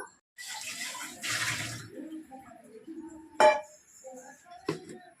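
Water pouring into a vessel to soak tamarind for a fish curry, splashing briefly in two short bursts, followed by a few sharp clinks of a container close by.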